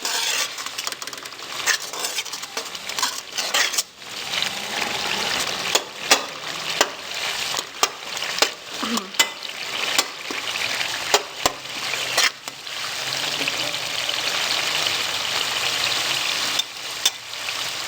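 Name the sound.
roasting masala with added water in pan over low heat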